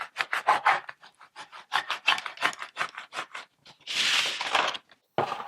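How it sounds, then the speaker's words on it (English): Cricut vinyl is rubbed down onto a wooden Halloween/fall door sign in a quick series of short, close scraping strokes, followed by a longer, denser rasp near the end. "I'm going to use this and just rub it one more time just to make sure it's set."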